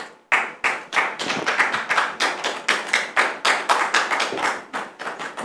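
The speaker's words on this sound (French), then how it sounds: "sous vos applaudissements" A studio audience on a French talk show claps steadily as a guest is welcomed, a dense run of fairly loud handclaps pulsing in waves throughout, with no talking over it.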